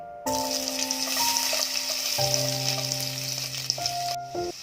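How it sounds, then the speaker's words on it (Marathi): Eight to ten garlic cloves fry in about four spoons of hot oil in a pan on a gas stove, giving a steady, close crackling sizzle that starts abruptly and runs throughout with faint tonal hums beneath. "तेल तापलंय, त्यामध्ये 8 ते 10 पाकळ्या लसणाच्या घालते।"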